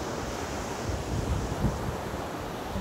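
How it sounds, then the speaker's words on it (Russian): Steady surf washing onto the Sea of Azov beach at Shchastlyvtseve in July, a continuous close roar of breaking waves mixed with wind buffeting the microphone, with no voices. "Азовское море, счастливцы."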